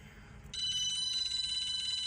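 Phone ringing: a bright electronic ring starts abruptly after a moment of low background rumble, then pulses rapidly and loudly nearby without pause.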